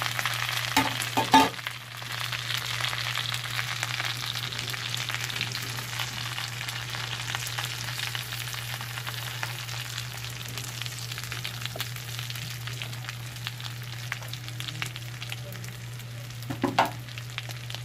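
Pork for humba sizzles steadily in a hot pan, a continuous even frying hiss over a low constant hum, with a couple of brief clatters and no talk.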